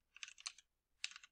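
Two quick bursts of close, crisp clicks from a computer keyboard while a username is entered, separated by a short pause in an otherwise silent room.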